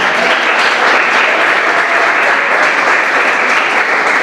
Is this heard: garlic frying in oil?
no